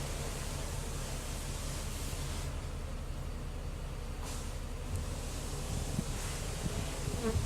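Honey bees buzzing at an open beehive during an inspection, a dense continuous hum that fills the whole stretch at steady volume, close by with no talking.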